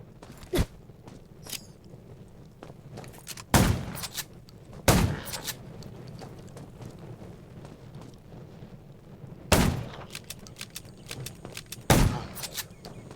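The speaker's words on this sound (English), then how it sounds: "Gunshots will attract more zombies." Sharp, loud video game gunshots from the zombie game Undawn ring out singly at irregular intervals over a low ambient rumble and faint shuffling steps.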